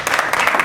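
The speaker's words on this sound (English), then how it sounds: "Board members applauded." Board members at a meeting break into a short burst of applause: quick, close, overlapping claps from a small group, with no speech.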